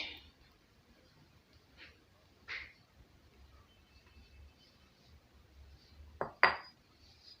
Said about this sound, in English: I'll now mix my egg with sugar first